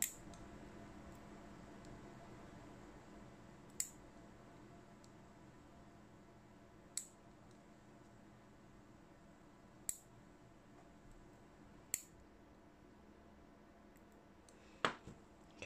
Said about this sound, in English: I'm then just going to get my clippers and I'm going to cut straight across the top of them all first.